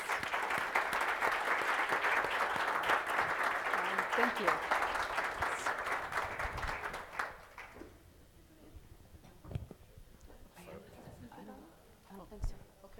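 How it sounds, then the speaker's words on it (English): Applause for panelists at a conference event on the digital divide, a full round of clapping that lasts several seconds and then stops abruptly, followed by quiet room noise and brief talk. "let's give a round of applause to the panelists"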